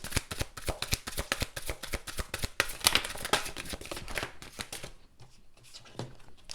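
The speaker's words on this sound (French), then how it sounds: "Et on va terminer avec un tirage du tarot pour avoir un petit peu plus d'éléments." A deck of tarot cards is shuffled for a reading, a close, rapid run of crisp riffling flicks that thins out into a few softer taps near the end.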